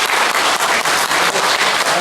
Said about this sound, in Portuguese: Salva de palmas para o nosso herói.